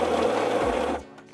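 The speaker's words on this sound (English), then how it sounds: "So we're using the ESP grinder again today." An ESP coffee grinder grinds beans at a medium setting, a loud close whirring grind that runs steadily for about a second, then cuts out abruptly, leaving faint clatter.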